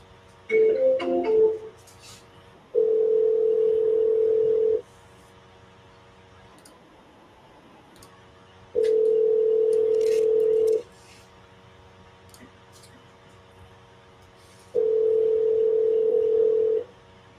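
A phone line gives a short burst of dialing tones, then three long, steady ringback tones spaced evenly with quiet gaps between, clear and close, on a call to an investor lead.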